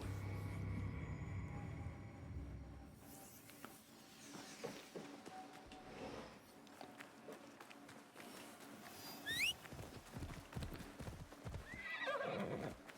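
Horse hooves clip-clopping and a horse neighing in the video game Assassin's Creed Shadows, quiet and intermittent, with whinnies standing out over sparse in-game ambience.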